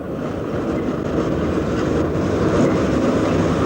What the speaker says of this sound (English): Your trams underneath, with an intersection as well for the trams.